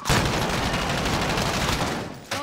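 Dense, continuous gunfire from a video game battle rattles loudly for about two seconds, a sustained volley that cuts off abruptly near the end, with no talk over it.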